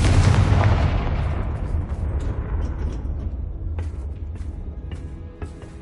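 A Confringo blast spell explodes in Hogwarts Legacy, opening with a loud, booming burst that rolls into a long, rumbling decay, with faint crackling debris pops scattered through the fading tail.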